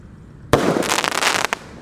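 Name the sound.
8-shot firework launching from hole in ground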